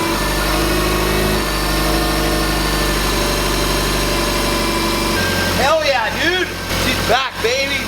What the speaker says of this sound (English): So let's fire it up without the heat shield on there this time and make sure we got no exhaust leaks.